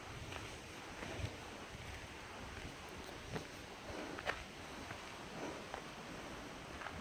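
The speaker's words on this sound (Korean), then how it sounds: "근데 정말 좋은 거는 바람 소리." Wind blowing steadily across a mountain hiking trail on Tohamsan, a broad continuous rush with occasional gusts and buffeting against the microphone, with no talking.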